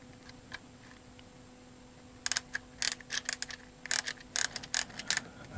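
Ratcheting clicks from winding the wheel of a G&G GR16 300-round hi-cap M4 airsoft magazine, a rapid uneven burst of sharp ticks starting partway through after a quiet stretch, close and fairly loud.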